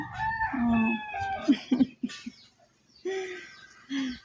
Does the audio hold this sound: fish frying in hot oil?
no